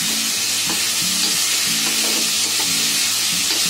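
Vegetables sizzle steadily in oil in a kadhai, a loud, continuous frying hiss with a spatula scraping and stirring them in a regular rhythm.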